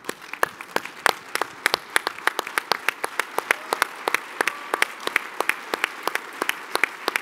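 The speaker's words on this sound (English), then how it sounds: "McKechnie a round of applause" Applause at a short-line railroad chairman's dinner for Mr. McKechnie, heard as a sparse scattering of distinct, fairly close hand claps with a standing audience, alone and without talk.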